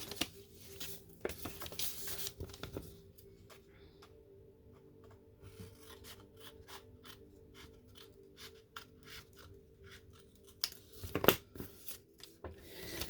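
Scissors cut a piece of paper for small junk journal envelopes, a series of quick crisp snips and papery rustles up close, quiet and alone, with heavier handling noise at the start and near the end.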